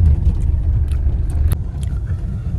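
A car engine on a road trip toward Manali: a continuous low rumble and road drone from inside the moving car, loud and steady, with a few faint clicks and no clear talking.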